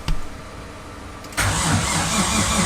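Nissan RB25 engine on a low battery, a brief clunk, then a steady labored starter whir, and after about a second the engine catches into a louder rough rumbling idle.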